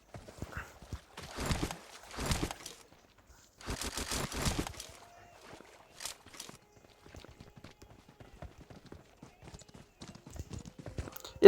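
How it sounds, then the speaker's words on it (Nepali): Horse hooves in the video game Free Fire, several bursts of rhythmic clip-clopping in the first five seconds, followed by quieter scattered taps and faint game sounds. "यो त घोडामै आएको हो भाइ"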